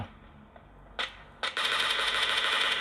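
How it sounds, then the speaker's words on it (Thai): Gunfire in PUBG Mobile, played on a HUAWEI Y6p phone: a couple of sharp single shots, then a sustained automatic burst that fills the last second and a half. "โอ้ทำไมผมยิงไม่โดนคน"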